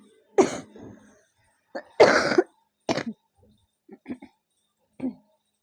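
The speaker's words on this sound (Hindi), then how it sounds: "खांसी से मैं बहुत ज्यादा परेशान हूँ, मेरी खांसी ठीक नहीं हो रही।" A woman with a persistent cough and sore throat coughs repeatedly during a lecture in short, harsh bursts, with a couple of louder hacking fits followed by smaller, quieter coughs and throat clearing.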